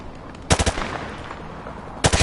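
Automatic gunfire from the hip in the video game Modern Warfare 2 remaster: two short, loud rapid bursts of three or four shots each, separated by a pause with low background ambience.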